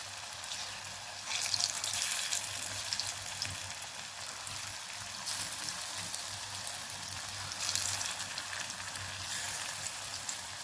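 Potatoes deep-frying in a little oil in a small kadai, giving a steady close sizzle and crackle with soft bursts of louder bubbling, no talking.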